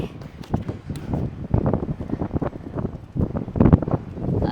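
Strong wind blowing outdoors, gusting in uneven surges and buffeting close to the microphone, rough and loud for the whole stretch with no talk.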